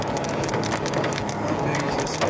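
Hail pounds down steadily during a tornado storm, a dense, continuous clatter of hard impacts with no break and no voices.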